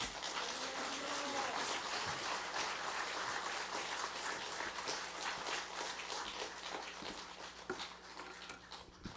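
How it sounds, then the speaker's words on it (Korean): A church congregation at a Presbyterian Sunday service applauds in welcome as a guest professor is introduced, a steady, dense wash of clapping that fills the room and thins slightly toward the end. "박수로 환영해 주시면 대단히 고맙겠습니다"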